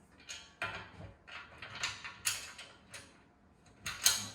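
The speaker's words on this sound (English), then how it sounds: "put the bolt through" Half-inch bolts and washers being fitted through an offroad rear bumper on a Lexus LX470, making a quiet series of light metallic clicks, taps and scrapes spaced irregularly, close by with no talk.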